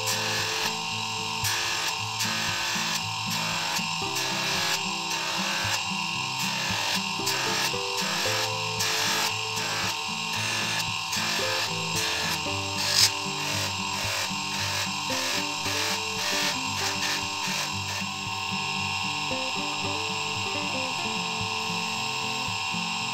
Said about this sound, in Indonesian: Untuk proses polishing kita bisa pakai kain seperti ini